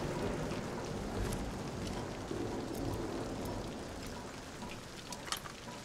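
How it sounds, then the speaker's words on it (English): Steady rain falls in the video game Thief (2014), a dense, even hiss of drops with occasional sharper patters, no voices over it. "You're just sitting out there in the rain"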